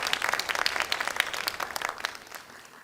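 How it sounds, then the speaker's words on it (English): Audience applause after a Kathak dance performance, a dense burst of many hands clapping steadily and fairly close, fading slightly toward the end. "Please give her another big round of applause."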